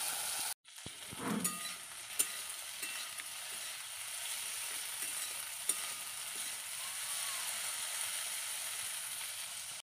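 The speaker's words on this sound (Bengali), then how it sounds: "আর ঢেঁড়সটা ভাজছি।" Okra fries in oil on a clay stove, a steady close sizzle with occasional light clicks and scrapes, after a brief knock at the start.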